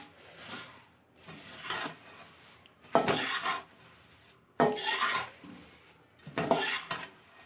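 Thin poha being tossed and turned in a pan with a spatula, four rhythmic bursts of dry scraping and rustling against the metal, close and with no talking.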